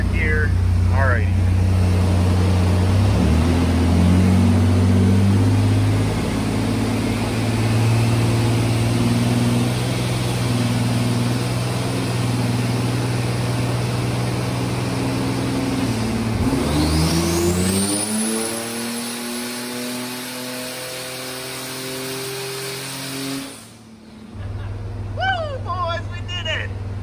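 A stock 4.3L V6 engine runs hard on a dyno, roaring loud and steady at high revs, climbing in pitch partway through before cutting off abruptly near the end.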